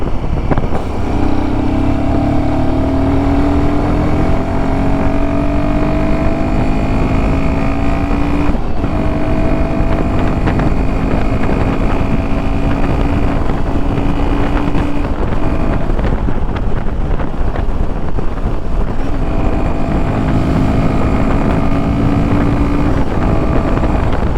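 A Royal Enfield Himalayan 452 fitted with a performance kit and a windshield rides on a road. Its engine drones steadily and rises and falls with the throttle, under heavy, constant wind rush.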